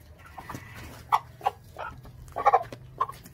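Several short, bright clucking calls from a rooster, spaced irregularly, close by with a low background hum and no talking.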